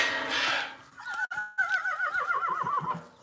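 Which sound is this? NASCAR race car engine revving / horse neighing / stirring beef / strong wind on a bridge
horse neighing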